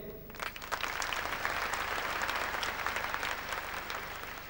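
A concert audience in London claps in a steady, moderately quiet round of applause, a crowd of many hands sounding together without a break.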